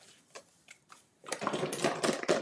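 Stampin' Cut and Emboss machine in use for embossing a layer with a 3D embossing folder: a few faint scattered clicks, then a loud steady mechanical grinding roll through the second half.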